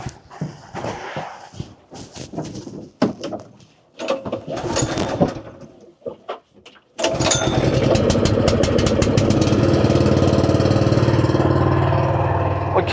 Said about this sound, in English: Better get the old engine started.